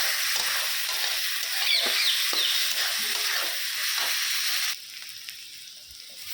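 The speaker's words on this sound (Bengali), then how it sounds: "ভাজা ভাজা হোক, ছোলা মুগ ডালটা দিয়ে দিই।" Moong dal and chana dal frying in hot oil with spices, a dense close sizzle with light stirring, which drops to a quieter hiss near the end.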